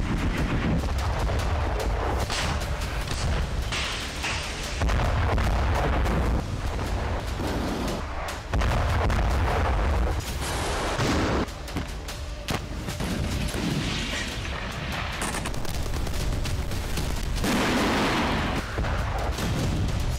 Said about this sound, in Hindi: एक ही टारगेट पर अनगिनत प्रहार